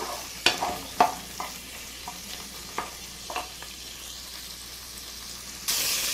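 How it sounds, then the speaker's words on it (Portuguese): Calabresa sausage fries in a pan with a faint steady sizzle, broken by several sharp scraping stirs and clacks, then a louder burst of hiss near the end. "Vamos dar uma fritadinha aqui na calabresa."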